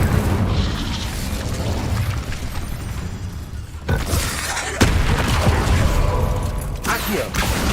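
Hogwarts Legacy combat: fiery Incendio spell blasts go off as deep booming bursts with roaring flame noise, loud and near, several hits in quick succession over a dense rumbling battle, with a voice now and then.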